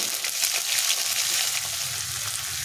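Ginger-chili paste and coriander frying in a pan for a vegetarian curry: a loud, close, continuous hiss and sizzle that holds steady throughout.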